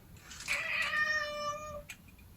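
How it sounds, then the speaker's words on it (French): A house cat gives one drawn-out, clear meow close to the microphone, rising then holding steady for over a second before breaking off, in a quiet room with no talk. "Le chat est d'accord avec moi."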